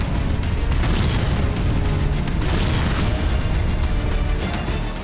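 Heavy, continuous booming rumble from bomb explosions, loud and dense throughout, with crackling bursts layered on top and no pause.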